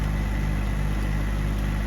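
A subcompact tractor backhoe engine runs at a steady idle, a continuous low mechanical drone with no breaks and no voices.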